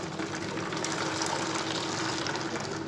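Hot water is poured into a bowl while making a homemade multani mitti face wash, giving a steady, continuous near gush of liquid with no talk over it.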